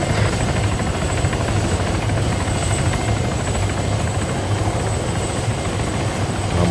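Helicopter in a video game, heard as a loud, steady rotor thump and engine roar filling the whole stretch without pause, no talk.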